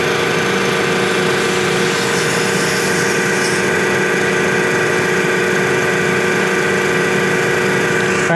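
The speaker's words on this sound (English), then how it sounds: "Let's take this down and just try the air compressor." A 12V air compressor from an electric car jack kit runs steadily and loudly throughout, a continuous buzzing motor drone with a bright, sustained whine and no talk.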